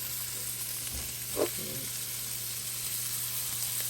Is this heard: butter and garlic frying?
yes